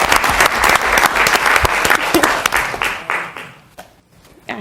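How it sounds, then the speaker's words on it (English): Audience at a city council meeting breaks into loud, dense applause for an award winner, steady clapping that thins and fades toward the end. "So a grand applause for Natalia."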